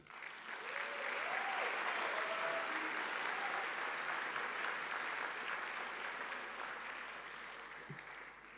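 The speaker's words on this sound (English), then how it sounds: "Graduates, can you all give those who have supported us a big round of applause?" An audience at an engineering school graduation ceremony applauds, steady dense clapping that rises quickly and holds for several seconds before easing off slightly, filling a large hall.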